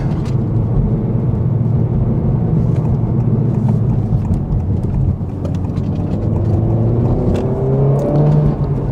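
A 2024 Honda Civic Type R drives onto the high-speed bowl at Millbrook, its engine and road roar loud and steady throughout, with a rising engine tone near the end.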